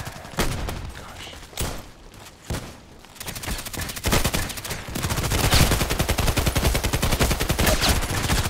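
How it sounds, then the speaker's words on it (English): Rapid gunfire in the Contract Wars shooter on the Old Sawmill map, starting with a few separate loud shots and then breaking into a dense, sustained automatic burst of closely spaced rounds. "that was not headshot, but still, that was like 4 or 5 shots in his body of the VIP"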